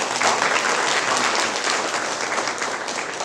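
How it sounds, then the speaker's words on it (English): Warm, sustained applause from a literary festival audience welcoming a guest, loud at first and easing slightly, with no talking over it. "Let's give her a round of applause."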